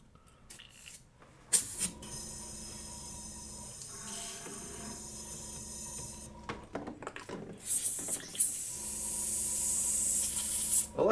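An airbrush sprays paint onto scale models at a hobby bench, giving a broad steady hiss that starts and stops in several bursts and builds to a longer continuous spray toward the end, with faint rubbing and handling noises between.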